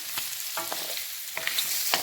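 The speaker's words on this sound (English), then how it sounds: "It's now sizzling away nicely." Paneer sizzling as it is stir-fried in a hot pan, steady crackling hiss, broken by a few scraping stirs of a utensil.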